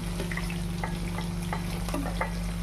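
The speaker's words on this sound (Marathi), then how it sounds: "मी कांद्याची फोडणी घालते" Chopped onions sizzle steadily in hot oil for a tempering while a spoon scrapes and clicks against the pan now and then; no one speaks.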